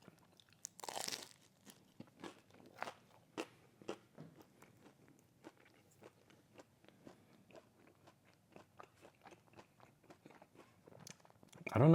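Someone bites and chews the crispy cheese edge of a Little Caesars deep dish pizza close to the mic, with repeated sharp crunches in an irregular rhythm and a quiet room behind them.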